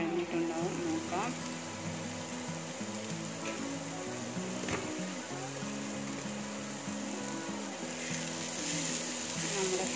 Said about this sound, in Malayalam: ഇഞ്ചി, വെളുത്തുള്ളി, കറിവേപ്പില ചേർത്ത് സവാള ഒന്നുകൂടി നന്നായി വഴഞ്ഞിട്ടുണ്ടാവും